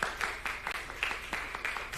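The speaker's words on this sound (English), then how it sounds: "Please give them a round of applause, Louise Bennett." Audience applause closes a session at a national health research conference: a brief, moderately faint burst of clapping that holds steady for about two seconds, with no speech over it.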